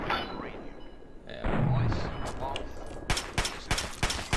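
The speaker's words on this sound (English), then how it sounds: "It was a sniper rifle." Sniper rifle gunfire in the video game Fallout 3, a run of sharp cracking shots in quick succession near the end, loud and close above steady game background noise.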